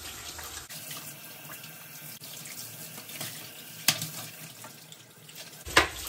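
Running tap water pours over a limescale-clogged shower head being rinsed in a sink, a steady close splash and gurgle with a few brief sharper clatters near the end.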